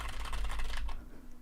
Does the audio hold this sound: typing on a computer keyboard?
yes